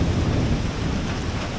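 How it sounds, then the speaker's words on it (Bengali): Heavy rain pours down in a dense, continuous roar, with low thunder rumbling underneath throughout and no voices. "আমি কবির বাড়িতে ঢুকতেই অঝোরে বৃষ্টি শুরু হলো।"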